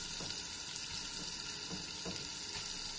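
Pork ribs fry in a pot over an onion base with cinnamon and vinegar, giving a steady, close hiss of sizzling fat with a few soft crackles.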